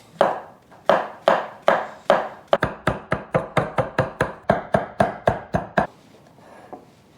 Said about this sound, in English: Then I need to finely chop these mushrooms.